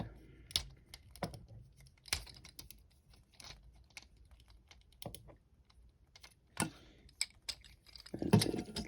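Plastic parts of a Transformers Generations Scoop figure click, snap and peg together in small, scattered taps and clacks at close range, ending in a brief louder rustle.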